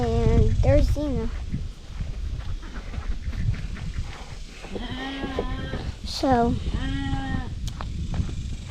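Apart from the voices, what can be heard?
sheep bleating in a pen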